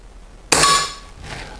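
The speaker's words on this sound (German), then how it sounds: "Und Schuss Nummer 7." One crisp air gun shot sends a diabolo pellet off with a loud, ringing metallic crack that decays over a fraction of a second, close and alone.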